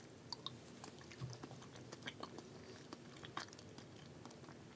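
Faint, close chewing of strawberry and chocolate hot chocolate jello, with soft wet squelches and small smacking bites scattered irregularly over a quiet background hiss.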